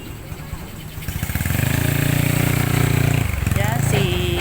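A motorcycle engine putters at idle, rising into a steady, loud, pulsing throb close by, with a short whistling squeak near the end.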